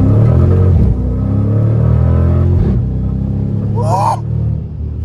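A 2019 Dodge Charger R/T V8 accelerates hard with a loud, close, deep engine roar that dips briefly twice as if shifting gears, then keeps pulling; a short vocal sound rises near the end.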